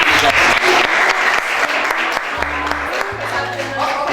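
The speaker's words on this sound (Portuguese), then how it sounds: "Vamos aplaudir as meninas." A class in a practical gastronomy lesson applauds the group of girls who made cheese, a crowded burst of clapping that gradually thins, with a voice talking over it and low hums underneath.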